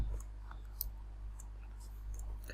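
Computer mouse clicks while working in SketchUp, a few faint, sparse taps over a steady low hum, with no voices.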